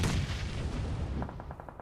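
Grenade blasts boom in a PUBG Mobile esports match, a dense roll of explosions and gunfire filling the background with a faint rhythmic patter of shots toward the end.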